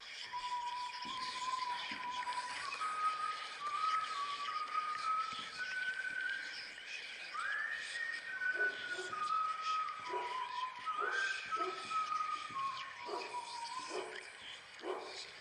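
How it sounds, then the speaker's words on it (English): A wavering whistled tune on a recorded phone message, thin and slightly distant, drifts up and down over a faint hiss, joined later by short bursts of barking. "I think it is somebody whistling."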